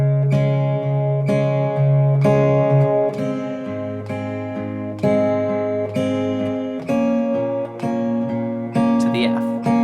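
Plucked acoustic guitar chords ring out one after another, each with a low bass note underneath, played slowly and evenly with no voices.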